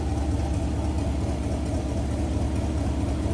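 A 1953 Oldsmobile 98 convertible's Rocket engine idles steadily after warming up, a low, even rumble heard close up from the engine bay with no voices.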